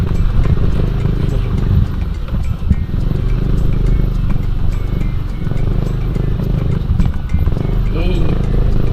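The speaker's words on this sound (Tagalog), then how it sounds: "Buti na lang pang rough road tong motor natin." A motocross-style motorcycle rumbles over a rough, pothole-filled road with a constant low engine and rattling jolts, while someone talks over it throughout.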